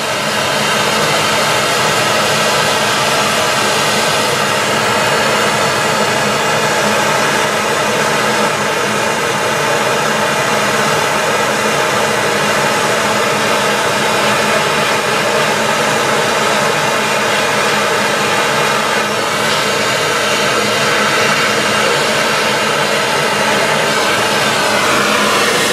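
A plumbing torch roars with a loud, steady flame as it heats a pipe joint, a close and unbroken rushing hiss that holds throughout with no talking.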